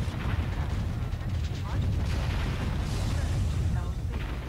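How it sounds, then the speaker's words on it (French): Mortar fire in the strategy video game Warzone 2100: a dense, steady rumble of distant booms and thuds rolls on throughout, with faint voice-like chatter mixed in. "S'il y a quand même le mortier qui tire dessus."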